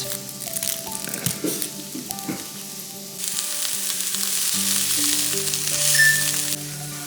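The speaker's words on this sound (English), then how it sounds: "we're going to add in the red onion to caramelize that" Red onion caramelizing in a pan after butternut squash: a close, loud frying sizzle, with a few clattering stirs early on, then a dense hiss that builds and holds until near the end.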